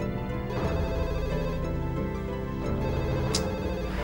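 A telephone rings continuously with a dense, loud electronic tone over a busy background, heard during a scene in an Indonesian drama.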